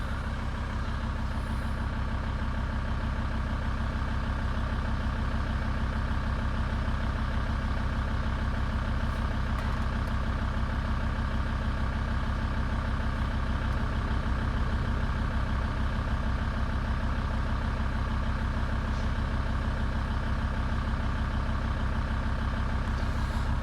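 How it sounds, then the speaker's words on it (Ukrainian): A Volkswagen T4 van's 2.5 TDI diesel engine idles steadily with a low, constant rumble and no pauses, close by and loud, with no one talking. "Двигун працює досить добре."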